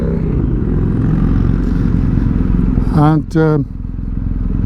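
BMW R1250 GS Adventure motorcycle riding in January, a steady loud engine drone with road and wind rumble throughout, broken by a brief harmonic whine near the end as a voice speaks once.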